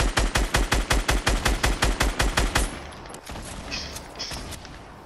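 Rapid automatic gunfire in Fortnite Battle Royale, a video game: about twenty loud, evenly spaced shots in a steady fast rhythm for nearly three seconds, then stopping, followed by quieter distant game noise and faint thuds.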